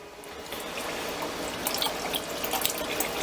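Water runs steadily from a pump-fed tap at a good flow, a continuous close hiss of gushing water with light splashing throughout.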